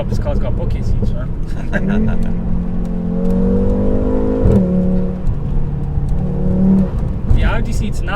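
From inside a 516 bhp Audi RS3, the engine drones and climbs in pitch across several rising pulls with brief dips between, under a voice talking throughout.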